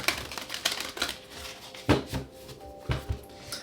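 Tarot cards are shuffled by hand in a series of crisp, papery taps and riffles that come in irregular bursts, close by, with no voices.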